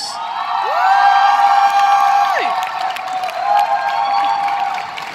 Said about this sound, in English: let's have one final massive cheer for all of our leaving Redcoats this morning